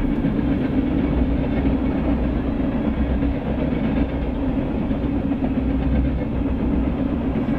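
A Norfolk Southern freight train rolls past at close range with a steady, loud rumble and continuous rail clatter from the wagons, with no talking.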